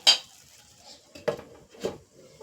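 A metal lid being set onto a pan of frying radish: a sharp clink at the start, then two duller knocks and scrapes of metal on metal, close and fairly quiet.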